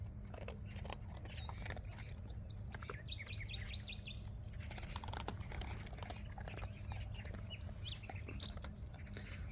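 Small birds chirp faintly in the distance over a steady low rumble, with occasional clicks and pecking sounds nearby.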